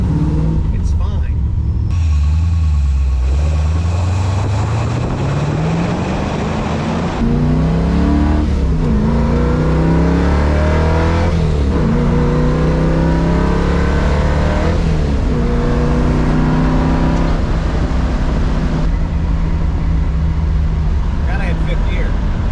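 A car engine fitted with an MSD Pro Billet distributor revs up from idle, pitch climbing smoothly and then cruising at steady RPM with further gear-driven rises, loud and close, with someone talking over it.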